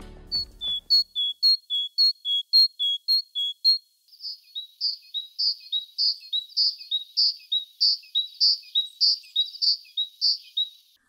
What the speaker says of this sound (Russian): когда вы услышите песню синицы, не упустите момент насладиться этим музыкальным сокровищем природы